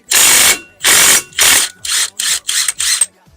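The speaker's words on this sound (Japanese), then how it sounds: "この 30mm のナットでセンターナットを外します。" A wrench removes the 30mm hub center nut on a Suzuki Wagon R MH21S with over 190,000 km, producing seven loud, close bursts of rapid ratcheting clicks, the first three longer and the last four shorter, with no talking.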